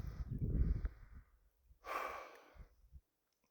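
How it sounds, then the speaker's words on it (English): Person outdoors on a hike in Northern California sage flat, breathing in deeply then exhaling in a soft sigh, two close, breathy breaths separated by a short pause. "So much air we're just breathing in."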